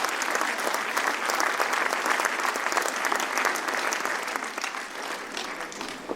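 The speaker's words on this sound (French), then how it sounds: "applaudir tous les partenaires de la ville de Val-d'Oise" A crowd gives steady, sustained applause at a municipal New Year's greetings ceremony in Valdoie, the dense clapping holding evenly throughout and easing only slightly near the end.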